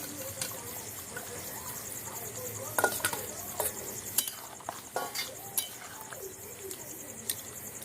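Fried potatoes go into a simmering mutton curry and get stirred, with scraping and clinking of a spoon against the pot over a soft sizzle, and a few sharp taps stand out near the middle.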